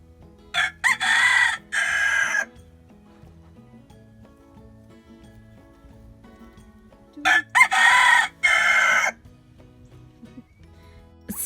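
Rooster crowing two times several seconds apart, each crow hoarse, squeaky and broken rather than clean, loud and nearby over a quiet outdoor background.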